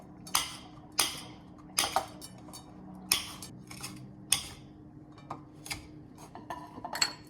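A knife chops green chillies into small pieces on a board, sharp crisp knocks at irregular intervals roughly every second, close and clear with lighter taps between.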